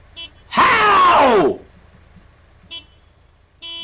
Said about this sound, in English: Who the hell is honking?